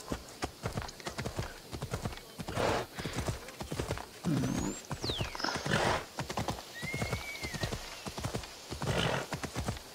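A horse in Assassin's Creed Odyssey trots with continuous close hoof clip-clops, several whinnies breaking through over the rhythm, with background game ambience.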